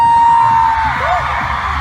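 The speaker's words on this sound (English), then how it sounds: "Everybody give them a round of applause!" A concert crowd at a GOT7 show in Dallas cheers and whoops loudly, a broad roar of many voices with a few sharp yells rising above it.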